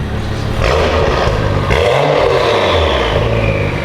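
A car with a new aftermarket exhaust and downpipe revs hard and close, its engine note rising and falling in one broad sweep while a turbo whistle carries through the roar.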